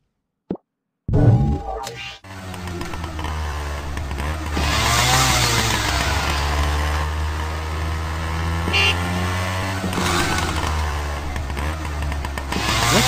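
A motor vehicle engine revs in the PK XD video game, a loud sustained drone with rising and falling pitch that follows a brief pop and runs steadily with no one talking.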